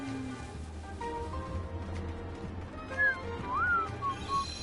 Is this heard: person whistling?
yes